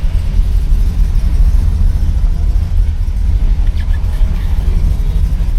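A 1970 Oldsmobile Cutlass Rallye 350 V8 engine idles steadily up close, its deep low rumble continuous and loud throughout with no voices.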